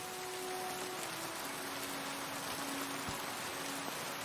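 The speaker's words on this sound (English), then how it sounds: "The rain could go away" Rain in the medieval video game Kingdom Come Deliverance 2 makes a continuous, even patter and hiss. It is soft and unbroken, with no talk over it.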